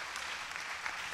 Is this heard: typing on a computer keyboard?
no